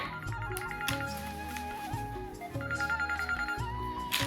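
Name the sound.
phone ringing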